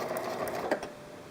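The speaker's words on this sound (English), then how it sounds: "engage your reverse lever, and sew backward 3 or 4 stitches." A home sewing machine runs steadily in reverse, stitching backward a few stitches through fabric, a close, continuous mechanical whir with a faint rhythmic needle chatter and no talking.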